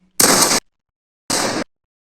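Two sharp bursts of video game gunfire, each about half a second long and separated by a second of silence, loud and close with no talk over them.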